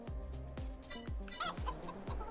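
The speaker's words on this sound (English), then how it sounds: "Alright, chickens." Chickens in Farming Simulator 22 cluck in short repeated bursts, close and fairly quiet, with a brief higher squawk partway through.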